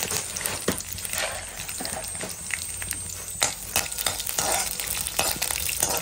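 Chillies and peanuts roasting in a pan for coconut chutney, a close gentle sizzle with repeated scraping stirs and light rattling taps, steady throughout with nobody speaking.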